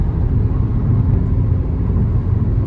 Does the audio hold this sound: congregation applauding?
no